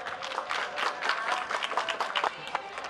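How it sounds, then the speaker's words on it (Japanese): Steady applause from an audience at a motorsport awards ceremony, a dense wash of many hands clapping at a moderate distance, sustained throughout without pause. "どうぞ大きな拍手をお送りください。"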